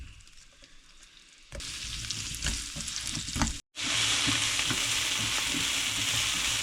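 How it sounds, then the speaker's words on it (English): Onion sautéing in hot oil in a pan, added after shrimp was cooked, for shrimp pad thai: quiet at first, then a loud continuous sizzle and frying crackle with a brief break, close up. "and we're going to saute our onion."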